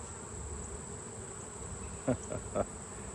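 Honeybees from a combined hive buzz in a steady, close drone during an October hive inspection, with a few brief louder knocks or rustles near the end.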